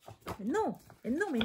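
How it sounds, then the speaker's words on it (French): A dog whines and yelps in two drawn-out, rising-and-falling cries, fairly close, while a person talks in French over and between them. "c'est mon chien. Il faut que j'aille voir, à mon avis, il y a quelqu'un qui est devant le portail"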